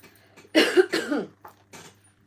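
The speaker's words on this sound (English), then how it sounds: "Let's clear my throat." A person coughs a couple of times up close, followed by a short throat-clearing rasp and a faint trailing cough.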